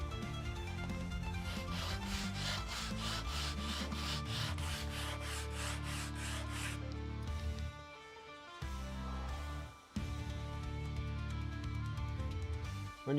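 A whole sheet of sandpaper rubs rhythmically in quick, regular strokes, then in slower, broken rasps, close and moderately loud against a steady tonal background.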